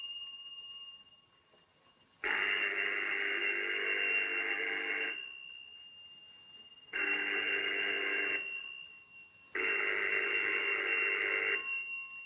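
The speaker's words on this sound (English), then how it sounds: "That phone's been ringing for 10 minutes." An old-fashioned telephone rings in a 1935 Paris-set film scene: three long buzzing rings with pauses between, steady and fairly loud over a faint background hum.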